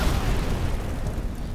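A big explosion in a Black Sea military video game rumbles as a deep, loud boom with a rolling low-end tail that fades over a second or so.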